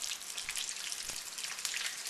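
Pot stickers sizzle in hot oil, a faint, steady crackle of fine spattering bubbles with no talk over it.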